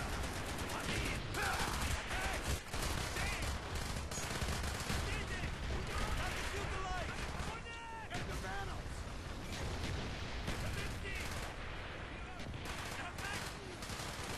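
An old 1940s-era gun firing in the Call of Duty Black Ops campaign, with loud, rapid, sustained bursts of gunfire and battle noise running throughout, with voices mixed in.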